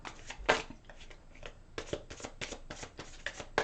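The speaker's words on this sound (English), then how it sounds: "let's take out a couple clarifying cards on this reading" A deck of tarot cards being shuffled and drawn during a Capricorn reading, with a burst of quick riffling followed by repeated close, crisp card slaps and swishes in an irregular rhythm, no voices.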